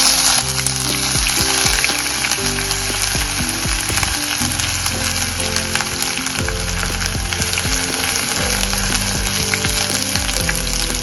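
Coarsely crushed garlic and ginger fry in a pan toward golden, a loud, close, continuous sizzle with occasional stirring clatter and no voices.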